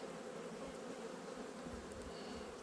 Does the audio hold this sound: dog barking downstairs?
no